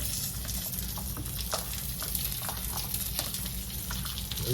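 Squash hitting a hot skillet of stir-fry vegetables, with a steady, close sizzle and crackle that holds level throughout and no one talking.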